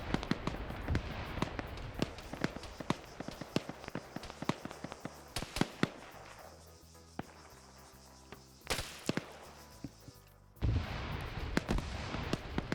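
A grenade goes off in a PvP shooter game amid a dense run of sharp cracks and pops, near and far. A loud blast cuts through, then a brief lull and a heavy rumbling burst.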